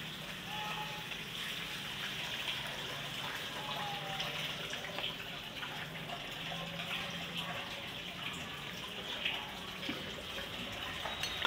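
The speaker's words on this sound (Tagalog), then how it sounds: "Lagyan na natin tubig mga idol," Water runs steadily into a pot for meat soup, a continuous moderate gushing splash with no break over several seconds.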